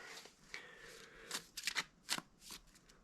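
Tarot cards being shuffled by hand in a quiet room, a string of soft, quick riffling bursts and flutters at close range, with no talking.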